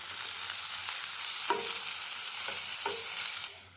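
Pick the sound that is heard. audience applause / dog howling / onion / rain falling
onion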